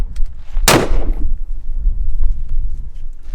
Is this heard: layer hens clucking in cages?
no